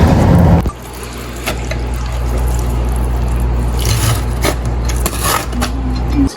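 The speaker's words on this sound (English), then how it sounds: "I'm going to take the berries and strain them." Blackberry juice for jelly strains steadily into a container, a continuous close trickle and pour with small drips, after a brief louder clatter at the start.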